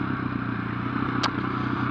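A Husqvarna FE501 motorcycle ridden off-road near Anglesea, Victoria, a steady close engine drone with a brief scrape or clatter midway.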